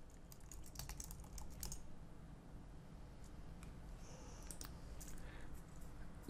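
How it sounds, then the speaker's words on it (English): Quiet, rapid typing on a computer keyboard, keys clicking in short bursts with brief pauses between them. "we can do so by typing node main.js."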